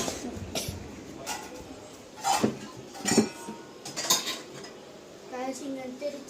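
A small metal pot is handled in a home kitchen, a few sharp clanks and clinks of metal against metal scattered over a quiet background.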